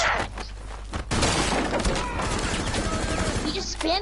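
A shotgun blasting repeatedly in a tactical shooter game, a dense barrage of loud overlapping booms and crackling impacts, with a voice talking over the action.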